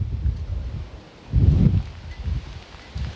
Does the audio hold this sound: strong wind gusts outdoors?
yes